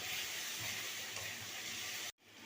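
Ginger, whole cumin and chilli hit hot oil in a pan for a vegetarian cabbage curry, giving a loud, steady sizzling hiss that holds for about two seconds before cutting off sharply, then resuming more quietly.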